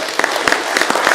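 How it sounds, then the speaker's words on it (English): A brief, loud burst of audience applause at an investor event, with close, dense clapping from a crowd. "Well, give him a round of applause."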